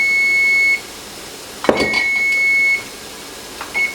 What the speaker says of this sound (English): All right, so there's our timer.